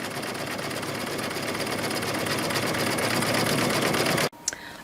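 A Cricut or Silhouette Cameo cutting machine cutting a zigzag outline around an image on fabric gives off a steady, loud mechanical whir that stops abruptly near the end, leaving a couple of faint clicks.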